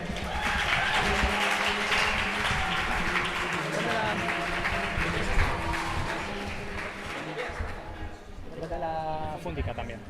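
Steady applause from a poetry slam audience in Iruñea greets a performer taking the stage, with voices mixed in and the clapping thinning toward the end.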